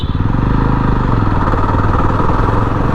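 A 2024 Yezdi Roadster motorcycle engine pulls after a shift into fourth gear, giving a loud, close, steady throbbing exhaust drone with a fast even pulse and no voices.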